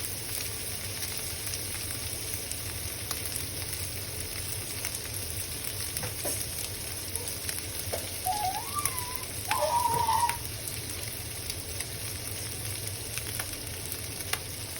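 Minced pork with garlic frying in a pan, a steady soft sizzle running throughout with a few faint scraping stirs of a utensil near the middle.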